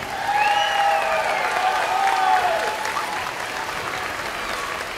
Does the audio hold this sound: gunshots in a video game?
no